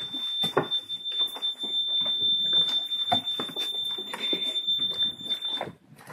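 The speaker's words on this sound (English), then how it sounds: "So, if it's the high water alarm, it's faulting." Boat high water alarm going off with a fault, a continuous shrill electronic tone holding steady for several seconds under clattering and shuffling cabin noise.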